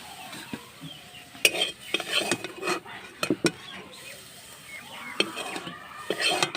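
Fried bathua greens being lifted from a pan: repeated scraping clinks of a utensil against metal over a faint lingering sizzle, close by, in uneven bursts with pauses.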